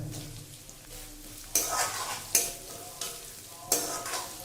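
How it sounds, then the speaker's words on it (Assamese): Green papaya pieces fry with ginger-garlic and whole spices in a wok for a chicken curry, with a soft sizzle broken by several sharp bursts of spatula stirring and scraping. "গোটেই মছলাখিনি অলপ ফ্ৰাই হোৱাৰ পিছত এতিয়া আমি ইয়াত দি দিম অমিতাৰ টুকুৰাকেইটা।"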